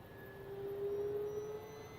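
An FMS Sky Trainer 182 V2 electric RC plane on a 3S battery flies overhead, its motor giving a steady whine that rises and falls slightly as it passes at moderate distance, faint against outdoor background noise.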